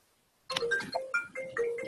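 A mobile phone rings out of near silence with a loud, bright melodic ringtone of repeated tonal notes, alone and close by.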